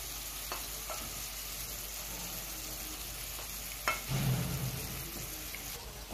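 Beef tongue frying in a pan for a tagine gives a faint, steady sizzle, with a brief louder stir or crackle partway through.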